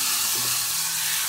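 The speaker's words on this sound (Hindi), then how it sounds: "गैस पे रखने के बाद जो तड़का है अभी मैं दाल में डाल दूंगी।" A hot tempering hitting a pot of dal, a sharp burst of loud sizzling and hissing, close up and brief.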